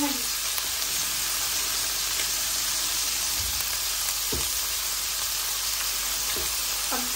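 Garlic and aromatics sauté in a hot pan as the base for ginataang kalabasa, giving a steady, close hiss of frying oil with a few soft clinks and scrapes of stirring throughout.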